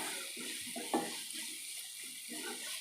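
Water poured from a tap or jug into a pan of drumstick curry with tomato and chilli powder, a short steady splash over broadband noise, faint and close.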